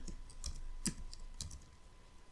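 Faint, sparse keystrokes on a computer keyboard, with a few isolated clicks spaced apart over a couple of seconds, close and quiet with no talking.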